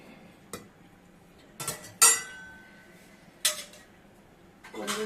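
Stirring a sago murukku vathal mixture in a pot: a few separate sharp clinks and scrapes of a spoon against metal, spaced seconds apart, close over a quiet background.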